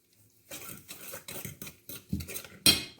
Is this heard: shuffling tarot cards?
no